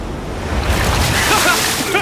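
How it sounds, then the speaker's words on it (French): Large ocean waves rolling in toward a small boat near an island, a broad continuous wash of surf and water noise with wind buffeting, loud and close throughout. "Ces vagues ont l'air vraiment grosses là-bas et elles viennent droit sur nous."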